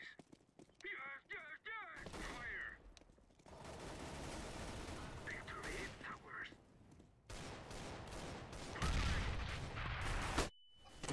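Rapid pistol gunfire from a CS:GO match, bursts of sharp shots clustered with game effects and chatter-like noise over about eleven seconds, loud and dense toward the end.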